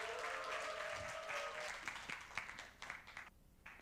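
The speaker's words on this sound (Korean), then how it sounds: "큰 박수로 맞이하겠습니다." An audience in a gathering hall claps to welcome a worship singer to the stage. The applause is steady and fairly full at first, then thins out into scattered, fading claps toward the end.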